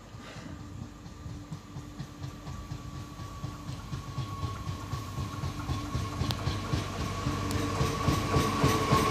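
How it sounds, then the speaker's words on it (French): A TER train pulls into the platform at Lisieux station with a low rumble and rhythmic wheel clatter that grows steadily louder as it nears, a faint brake whine running above. "En provenance de Caen et à destination de Rouen-Rive-Droite, départ 16h34, va entrer en gare, voie D"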